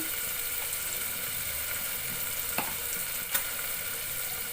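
Salt and black pepper seasoned food roasts in a pan, giving a soft, continuous frying hiss with a couple of faint stirring knocks, with no talking.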